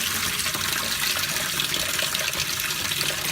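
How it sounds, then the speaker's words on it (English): Water pours steadily from a canister filter into a plugged bathtub, a continuous close splashing gush with no talk over it. "is dump some water from the filter into this bath that I plugged up"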